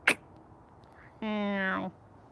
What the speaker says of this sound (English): I think that's a squirrel making that noise.